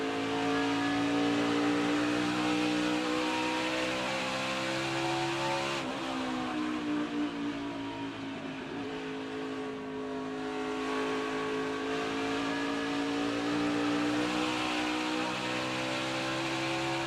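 Onboard engine of Justin Allgaier's NASCAR Xfinity race car lapping Iowa Speedway, a loud, steady high-pitched roar with pitch dipping and rising through corners, continuous throughout with no talk.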